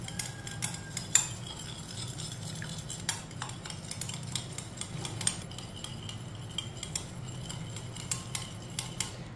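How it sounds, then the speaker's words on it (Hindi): Eggs whisked with a metal utensil in a bowl while making a breakfast batter, producing irregular clinks and scraping taps against the bowl's side over a low background hum, with no talking. "अंडों को अच्छी तरह मिक्स कर लेंगे।"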